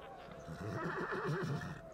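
A horse whinnies in the LEGO Pirates of the Caribbean video game, a drawn-out wavering neigh that rises mid-clip over a faint background, fairly close and moderately loud.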